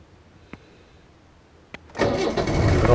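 A late Land Rover Series III 2.2-litre diesel hardtop starts up: two faint clicks, then the engine catches abruptly and settles into a loud, rough, clattering idle, close by with no talking.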